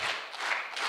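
Brief burst of audience clapping at a tech community event in Africa, dense and steady, heard alone for under a second.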